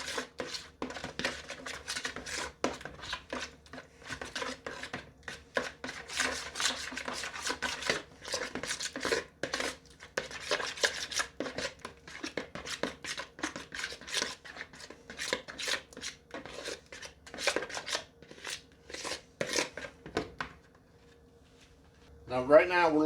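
Coleslaw dressing being stirred together in a bowl for a crab coleslaw, a busy run of close scraping and clicking strokes of the utensil, steady for about twenty seconds before a short pause and a final clatter.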